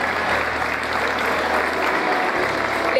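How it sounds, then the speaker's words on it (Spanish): Audience applause at a national gaucho tradition festival crowning ceremony, a steady, even wash of clapping heard from a distance, moderately loud and unbroken. "Fuerte el aplauso para este para momento."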